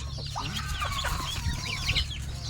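Chickens on a farm in Mindanao cluck in several short, overlapping bursts over a low steady hum, moderately near and fairly quiet, with no talking.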